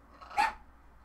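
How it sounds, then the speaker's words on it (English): A single short dog bark, fairly close, standing alone against a quiet background. "Y'all hear her barking."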